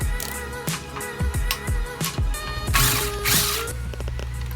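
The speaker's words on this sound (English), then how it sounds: "So we're about to torque it down." A torque wrench tightens the valve cover bolts on a Jeep Rubicon to 28 pounds, with repeated close, loud ratcheting clicks in quick bursts followed by a longer metallic rasp.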